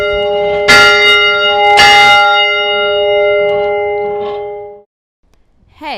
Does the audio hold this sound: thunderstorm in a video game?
no